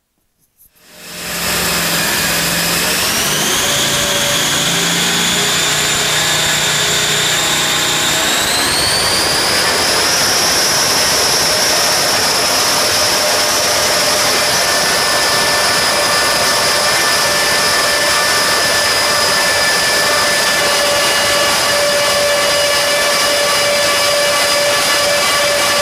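A blown, intercooled 557 engine fitted with venturiless 1150 carburetors roars at wide open throttle on a dyno, a loud, sustained howl whose pitch climbs and then holds steady for the full run.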